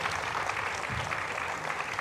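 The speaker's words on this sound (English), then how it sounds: "So let's give him a round of applause as well." Brief burst of audience applause at a panel event, a dense continuous wash of clapping at steady volume for about two seconds.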